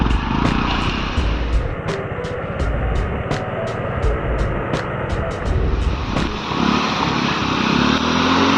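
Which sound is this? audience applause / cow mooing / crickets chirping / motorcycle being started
motorcycle being started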